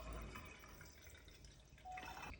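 Coloured water is poured into a fuel-testing measuring device that already holds a fuel sample, giving a quiet, close trickle and splash that runs steadily and then swells slightly near the end.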